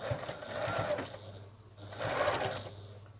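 A sewing machine top-stitches a double-layer cotton face mask, running in two steady bursts with a short pause between them, close and fairly loud.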